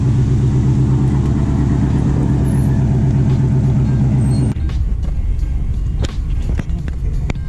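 Chevy OBS truck engine running loud and close, a steady rumbling idle that suddenly cuts to a quieter, rougher tone partway through with some clunks and rattles.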